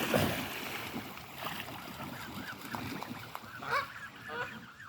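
Canada geese honk in a loud, jostling flock while being fed corn. Overlapping calls come at close range over a rustling background, with a few louder honks near the end and no clear talk.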